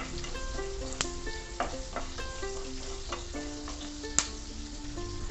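Panch phoron and hing sizzling in hot oil, a continuous crackling fry with scattered pops and occasional light clinks, moderately quiet.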